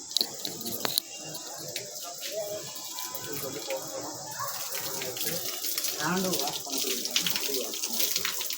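A water tap runs steadily as feet are washed at a Jain temple near Hosur, the splashing flow continuous and fairly close, with voices and occasional outdoor sounds in the background.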